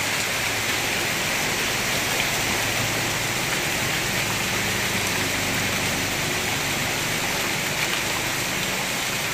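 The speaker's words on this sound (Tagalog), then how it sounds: "bumabalik na yung lakas ng ulan" Heavy rain pours down in a dense, unbroken hiss over flooded streets in San Andres Bukid, Manila, loud and constant from start to finish.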